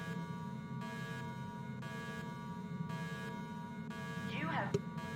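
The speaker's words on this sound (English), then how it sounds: "And it will go into alarm." An alarm in the 2011 adventure game Gemini Rue sounds as a pulsing electronic buzz in regular on-off bursts over a low hum, ending with a brief swooping glitch.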